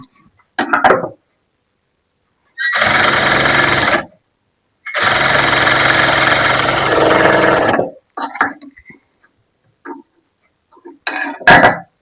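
A sewing machine stitches a blouse hem in two bursts of rapid whirring lasting about one and three seconds, separated by pauses with brief clicks and handling noises.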